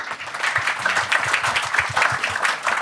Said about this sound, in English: give our startups a round of applause